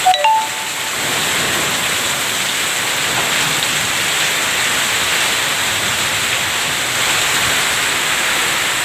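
Heavy rain pours steadily in Bhilai, a dense continuous hiss of drops on surfaces, loud and unbroken throughout, with no voices.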